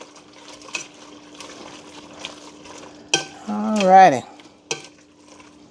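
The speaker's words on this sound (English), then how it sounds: "Now we're just going to mix it." Scallop sausage alfredo is stirred in a pan, with scattered clinks and scrapes of a utensil against metal, a faint sizzle underneath, and a brief voice partway through.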